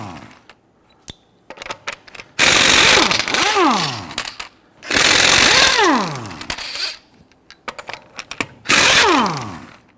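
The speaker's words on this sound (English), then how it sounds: "Using a 19mm socket, we're going to go loosen and remove our lug nuts." Lug nuts being loosened and removed with a 19mm socket on a 2010–2019 Ford Taurus front wheel: loud whirring bursts from a powered driver, separated by quieter clicks and metallic clinks of nuts and socket.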